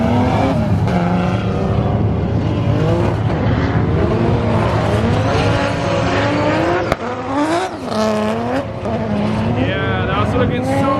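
A 1000HP BMW drift car runs through a Formula Drift qualifying course in Orlando, its engine loudly revving and wailing up and down with tire squeal as it passes, while a voice talks over it.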